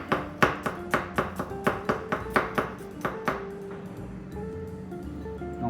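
Knife cutting fresh ginger into matchsticks on a chopping board, a run of about fifteen crisp, evenly spaced chops that slow and fade, followed by a quieter stretch of faint kitchen sounds.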